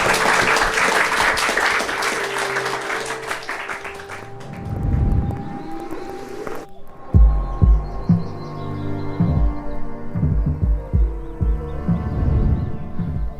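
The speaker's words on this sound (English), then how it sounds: "Round of applause." Live audience applause at a river-themed gathering fills the opening seconds, then cuts off abruptly and gives way to other sounds with brief tonal elements.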